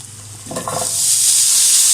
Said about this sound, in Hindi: खोए को भूनना है।